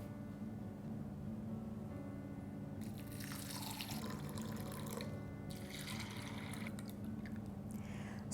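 Water runs and splashes into a container of soaking beans in a few bursts over a steady low hum, with no talking.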